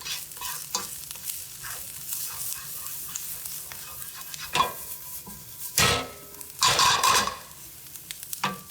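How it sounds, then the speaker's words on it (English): A quinoa taco skillet mix with cumin and chili powder sizzles in a pan while a spoon stirs it, giving repeated scraping strokes and a few louder clattering scrapes near the end. "Give it a nice little stir."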